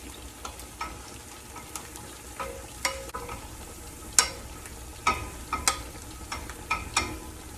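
Garlic fries gently in a pan for spaghetti sauce with a steady, soft sizzle, while a utensil stirring and scraping the pan gives irregular light clicks throughout.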